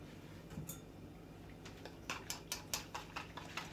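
A spoon or whisk stirs yeast, sugar, flour and warm water together in a bowl for Egyptian baladi bread, giving a run of quick, light clinking taps against the bowl, close and fairly quiet.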